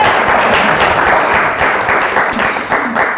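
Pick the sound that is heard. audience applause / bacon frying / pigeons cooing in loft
audience applause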